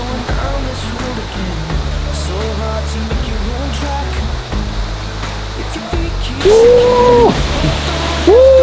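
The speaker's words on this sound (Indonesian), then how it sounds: "gue sudah mendengar suara air, deru air terjun kayaknya" A steady rushing roar of a waterfall in a jungle fills the background while a person talks over it, the water constant throughout.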